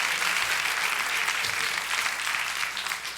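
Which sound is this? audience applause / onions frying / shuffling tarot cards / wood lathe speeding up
audience applause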